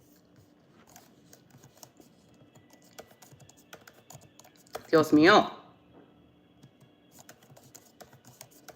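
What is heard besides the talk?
typing on a computer keyboard set to Hangul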